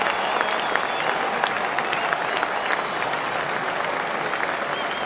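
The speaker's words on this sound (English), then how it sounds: "now listen to the roar as this man comes to the crease" Cricket crowd at Lord's during the MCC vs Rest of the World bicentenary match, sustained dense applause and cheering roar filling the ground as a new batsman walks out, steady and loud throughout.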